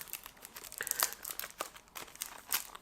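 Thin plastic wrap crinkles and tears as it is peeled from a CD box, a close, quiet run of irregular crackles and rustles with no voices.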